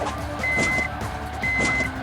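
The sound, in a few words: continuous warning beep from a video game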